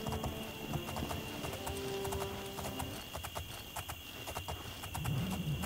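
Steady clip-clop of horse hooves at a trotting rhythm in the video game Oblivion, with a brief whinny, over a constant ambient hum.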